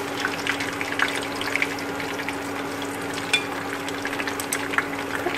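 Eggplant pieces fry in a generous amount of oil, giving a steady close sizzle and crackle with small pops throughout and no voices.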